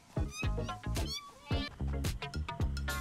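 Cats in the Satisfactory video game meowing repeatedly, a string of loud, close, drawn-out meows in quick succession with little pause between them.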